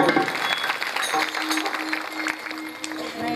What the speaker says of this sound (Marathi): तुम्ही प्रेमातच म्हटलं एकदा नक्की टाळ्या वाजवा.